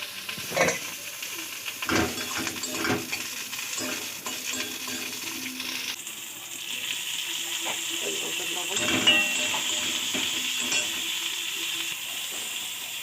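Bathua greens frying in a pan with eggplant and green chillies: a soft, continuous sizzle and hiss with intermittent clatter and stirring knocks, fairly close and steady throughout.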